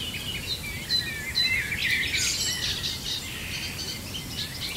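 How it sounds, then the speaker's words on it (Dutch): Many birds singing and chirping beside a river during a Dutch evening perch fishing session, a steady mix of high calls over a constant wash of background noise, with no one speaking. "Hoor je die vogels?"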